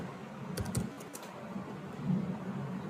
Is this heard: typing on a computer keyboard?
yes